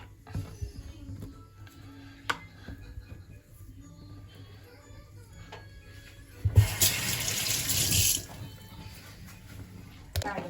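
Tap water gushes into a kitchen sink for washing in a short, loud burst of about two seconds, then stops, with a quiet room and faint voices around it.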